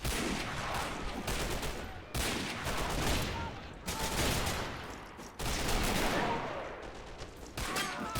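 Rifle and machine-gun fire crackle through a WW2 video game battle at a fort siege, dense bursts of shots repeating in waves with brief gaps, loud and continuous, with a faint voice underneath.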